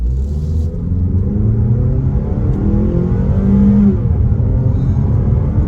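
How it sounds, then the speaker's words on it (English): A 2022 Mazda CX-30 Premium accelerates hard from a standstill, its engine rumble rising steadily in pitch under load, heard from inside the cabin with no talking. "Right here, good spot for a acceleration off the line"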